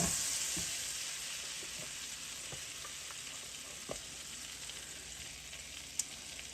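Steady oil sizzling and crackling from hoe cakes frying in a pan, a constant hiss with occasional soft pops and clinks.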